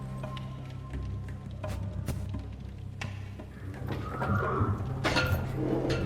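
A horse whinnies in the stables in the video game Secret Files 3, over a steady low rumble of background noise, with scattered clicks and thuds around it.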